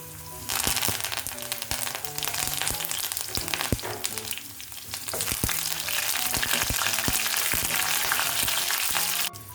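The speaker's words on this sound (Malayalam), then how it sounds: "നമുക്ക് ഒരു ഉണക്കമുളക് രണ്ടായിട്ട് മുറിച്ചിടാം കുറച്ച് കറിവേപ്പില ഇടാം" Green chillies, a halved dried chilli and curry leaves crackle in hot oil for a prawn and drumstick curry tempering, a loud, dense burst of spitting and popping that carries on, close and without voices.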